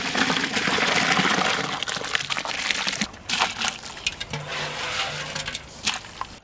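Soaked basmati rice pours into a pan with a wet, gushing rustle that is loud at first, then thins into scattered grainy clatter and soft taps, with no one talking.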